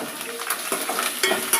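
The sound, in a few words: stirring a frying tempering of dried red chillies and curry leaves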